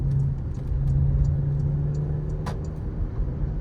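A Porsche Macan GTS performance SUV under hard braking, its engine rumbling low with a steady drone and brief rises as it drops gears, heard from inside the cabin.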